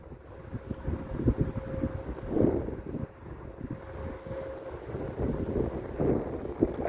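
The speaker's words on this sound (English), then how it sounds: "it's hard to hear because of the daggone wind." Gusty outdoor wind buffets the microphone with uneven low rumbling bursts, and a faint steady tone runs underneath the blustery noise.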